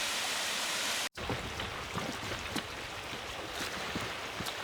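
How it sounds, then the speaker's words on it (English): Waterfall water flowing in Nara Inlet in the Whitsundays, heard from a paddling craft as a continuous broadband rush. A brief dropout near the start interrupts it, then steady flow with scattered splashes resumes. "There's the waterfall up there, a little bit of water flowing over the thing."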